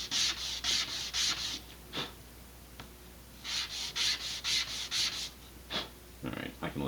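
Hand sanding of a laser-cut model rocket part with burn marks, heard as close, rhythmic scratchy strokes in short bursts separated by brief pauses.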